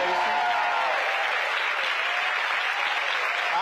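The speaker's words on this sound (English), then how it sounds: "Let's give the panel a round of applause" Audience applause for a panel at a church community meeting, steady dense clapping filling the whole moment at moderate level with faint voices underneath.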